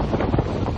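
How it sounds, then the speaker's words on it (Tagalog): Strong typhoon wind and rain from Typhoon Uwan buffet the microphone in a dense, continuous roar with gusty swells, loud and close throughout. "Sa lakas ng hangin at ulan, tila nagsayawan ang mga puno."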